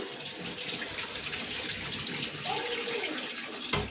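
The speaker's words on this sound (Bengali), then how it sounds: "আমার অল্প একটু চিংড়ি মাছ দিয়ে মাছগুলো আগে ধুয়ে নিয়ে আমি" Prawns are rinsed under a running kitchen tap, a steady, close hiss of flowing water into a sink with a brief splash near the end.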